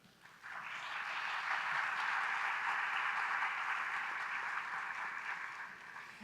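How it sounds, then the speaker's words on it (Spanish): An audience at a festival talk in Cartagena applauds the invited guests, a steady, dense wash of clapping that swells quickly, holds for several seconds and fades slightly at the end, with no voices over it. "para todo este público maravilloso, un gran aplauso"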